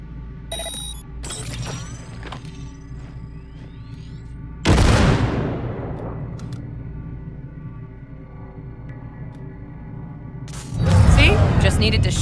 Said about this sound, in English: Now, detonate the grenade.